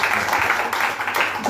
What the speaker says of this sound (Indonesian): Beri dulu tepuk tangan yang terkasih